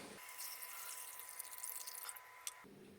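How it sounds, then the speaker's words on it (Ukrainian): Water streams from a tap into a multicooker pot of buckwheat, a steady, close pouring hiss that starts and stops abruptly over a few seconds. "Заливаємо водичкою."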